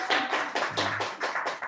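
A church congregation at a Sunday service clapping to welcome first-time visitors, a short burst of close, rapid hand claps with no talking over it.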